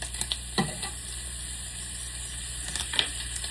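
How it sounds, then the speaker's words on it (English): Butter melts into a pan where bacon is already frying, giving a soft continuous sizzle with a few faint scrapes and taps of a utensil, fairly quiet and without talking. "I'm just gonna put a little bit of butter,"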